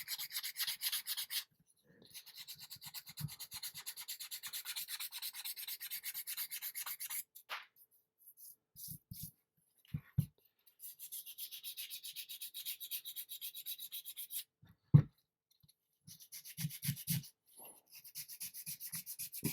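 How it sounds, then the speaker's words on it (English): Sanding the smooth, untextured skin of a 1/4 scale Hellboy figure sculpt, heard as long bursts of close, steady scratchy rubbing strokes broken by pauses, small knocks and handling sounds. "So I can sand on it like this and not worry about losing any detail because it's just the skin."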